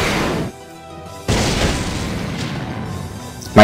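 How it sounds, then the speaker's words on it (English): A loud burst from a visual novel video game, where a blast erupts as hellfire strikes a blade, with a sudden heavy onset, a broad rumbling roar that sustains for a couple of seconds, and another sharp hit at the end. "My consciousness was blown away by the scorching explosion born at the moment the hellfire kissed my blade."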